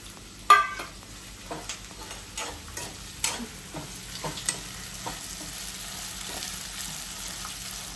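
Green chillies, curry leaves and mint sauté in oil with a soft continuous sizzle, broken by light spatula taps and scrapes, one sharper knock near the start.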